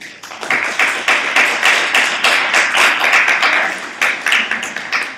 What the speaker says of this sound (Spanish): un aplauso a los chicos que lo han hecho muy bien